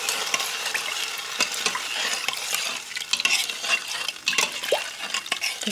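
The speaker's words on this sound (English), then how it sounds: "And then I'm just going to stir that around." A spoon stirring a shrimp boil inside an Instant Pot makes close, irregular wet scraping and sloshing sounds with light liquid clinks, continuous for several seconds without talking.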